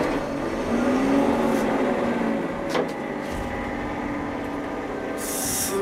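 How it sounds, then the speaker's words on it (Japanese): A Wakasa Railway steam locomotive, modified to run on an engine, starts up with a steady mechanical rumble and clatter that holds at a constant level nearby throughout. "ついにですね、エンジンがこれからかかります。"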